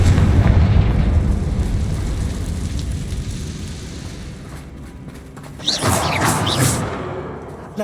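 Confringo fire spell explosions in the video game Hogwarts Legacy: a heavy rumbling boom that slowly decays, followed by a second sharp burst with crackling and whooshing debris near the end.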